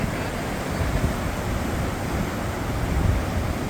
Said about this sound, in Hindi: ये है नदी का तेज बहाव।